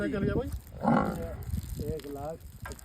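Buffalo at a Haryana dairy farm moo nearby in several short, deep calls, with faint voices in the background.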